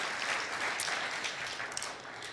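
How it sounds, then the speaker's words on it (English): A seated audience at an evening humanities festival event claps steadily in a continuous wash of hand claps, moderately loud and even throughout, without a voice over it. "We really do need to clap."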